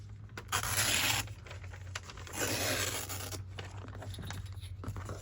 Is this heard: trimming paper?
yes